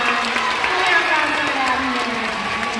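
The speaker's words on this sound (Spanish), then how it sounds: "Un aplauso para Dani" Audience applause at a live children's show in Buenos Aires, a steady wash of clapping with a sustained tone and voices mixed in throughout.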